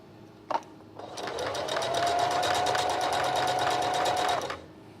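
A sewing machine runs a loose zigzag stitch in one continuous burst of rapid, even mechanical clatter lasting about three seconds, preceded by a brief click.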